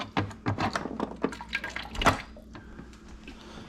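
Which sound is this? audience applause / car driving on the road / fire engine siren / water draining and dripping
water draining and dripping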